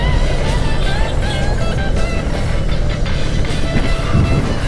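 A Yamaha R15 motorcycle held at full throttle, a steady loud continuous engine roar with wind-like rumble and no letup, recorded close while riding.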